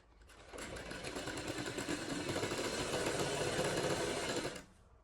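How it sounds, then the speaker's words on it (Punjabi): Sewing machine stitches fabric for a garment, a kachhera, in one continuous whirring run that starts up, holds a steady rapid motor buzz for about four seconds and then stops, heard close with no talking. "ਫਿਰ ਤੁਸੀਂ ਇਸ ਤਰ੍ਹਾਂ ਕਰਕੇ ਇੱਧਰ ਸਲਾਈ ਲਾਉਣੀ ਸਟਾਰਟ ਕਰਨੀ"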